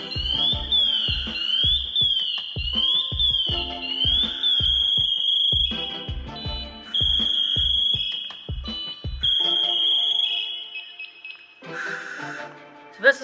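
Firefighter's downed-firefighter alarm, a shrill high warbling tone that sounds steadily and loudly for most of the stretch, with rhythmic low thumps and a voice or two underneath before it cuts off and quieter noise follows.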